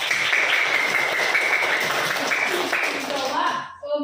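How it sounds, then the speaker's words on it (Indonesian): Students in a classroom give group 3 a round of applause, a dense, steady clapping that carries for a few seconds before thinning out and fading, with voices nearby. "Oke, tepuk tangan buat kelompok 3."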